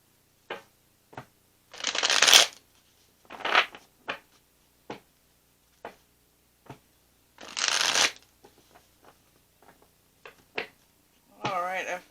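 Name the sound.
shuffling tarot cards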